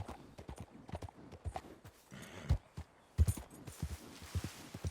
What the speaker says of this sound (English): I didn't actually get chucked off the freaking horse this time.